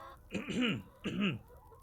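Chickens cluck in the farming video game We Harvest Shadows, two clear, close, nasal clucks about half a second apart with no talking.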